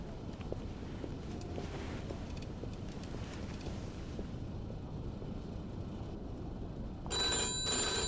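A telephone rings in Mafia II, set in Oyster Bay in 1951, with a steady bell-like tone over a low game background that turns louder and brighter near the end; no voice is heard.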